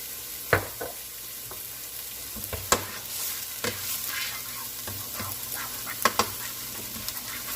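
Pizza sauce ingredients, onions and garlic, sizzling in olive oil in a pan, a steady close hiss broken by a few sharp clacks of a spoon stirring against the pan.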